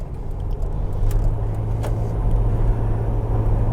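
A Jeep Wrangler TJ on 4.88 gears and 32-inch tires pulls onto a highway, its engine and road noise forming a steady, loud low rumble inside the cabin with no talking.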